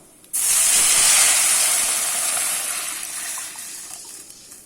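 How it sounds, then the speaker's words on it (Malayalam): Water poured into a hot pan of roasted semolina and vermicelli while making upma, setting off a sudden loud steamy hiss that surges at once and then slowly fades over several seconds, heard alone. "ഇനി നമുക്ക് വെള്ളം ഒഴിക്കണം."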